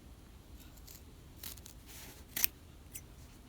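Scissors snip fabric corners close to the stitching on a V-neck garment being finished with piping, giving a few faint close clips and one sharper cut, with no talk.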